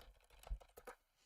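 Quiet typing on a computer keyboard, a quick run of light, close key clicks in an irregular rhythm, with no talking.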